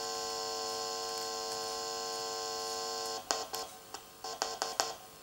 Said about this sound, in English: That noise in the background is the little amplifier I'm monitoring the pickups with.